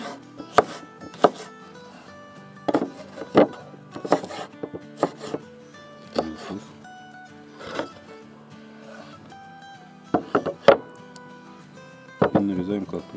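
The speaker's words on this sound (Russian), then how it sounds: "Нарезаем зеленый перец." Knife chopping green bell pepper into cubes on a board, a series of sharp irregular knocks spaced across the clip, close and fairly loud, with speech and background voices throughout.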